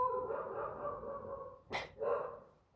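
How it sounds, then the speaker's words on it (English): A dog barks repeatedly at close range, a steady run of yapping barks followed by a sharp louder bark and another burst, with no talking over it. "I apologize for the dog barking"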